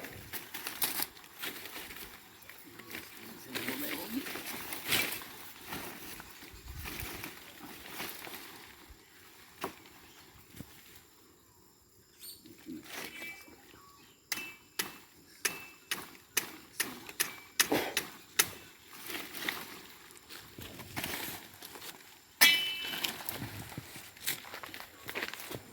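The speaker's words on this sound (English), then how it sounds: "And then you can just cut a section out." A section is cut out of an ayahuasca vine outdoors, giving a series of irregular crunching, chopping strikes that grow denser through the middle and later part, over quiet background rustle.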